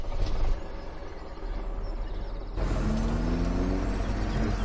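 A truck in Farming Simulator 17 idles with a steady low engine rumble, then releases a hiss of air brakes before a deeper, louder engine drone sets in. No voices are heard.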